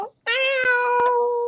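One long, clear cat meow, close and loud, holding steady for over a second after a brief short sound at the start.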